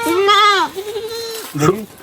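A goat bleats loudly with a wavering, quavering cry, followed by a shorter second bleat, with faint talk in the background.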